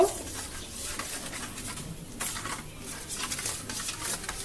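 A spoon stirs a sauce mixture of vinegar, pepper powder, chili flakes, water and sugar in a bowl, giving repeated light scraping and clinking strokes. The sound is close and moderately loud with no speech.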